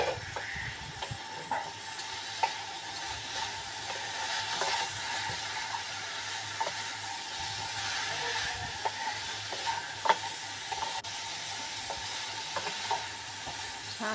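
Pumpkin greens cook in a covered pan with salt and turmeric, sending up a continuous soft sizzle and hiss with occasional faint clicks, no voices.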